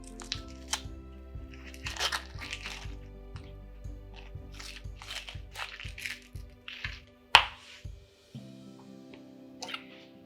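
Papery skin peeled by hand from a halved onion, a close series of dry crackling tears and crunches over a rhythmic background beat, with one sharper snap partway through.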